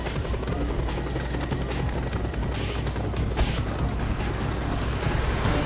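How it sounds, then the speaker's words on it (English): A helicopter in the video game Just Cause 2 gives a loud, continuous rotor thump with mechanical whine. It holds steady throughout, with one brief sharp crash near the middle. "Oh, another helicopter, huh?"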